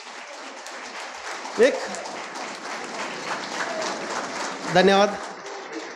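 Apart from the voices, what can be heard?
audience applause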